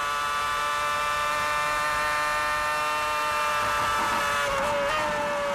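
A 2006 Formula 1 car at Silverstone screams at high revs in a loud, sustained whine that holds steady then shifts pitch near the end as it changes gear.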